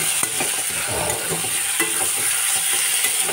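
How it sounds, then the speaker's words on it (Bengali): Eggplant frying in oil with sugar being stirred in a pan, a continuous close sizzle broken by scraping and clinking strokes of the spoon. "চিনি দিয়ে একটু নাড়াচাড়া করবো"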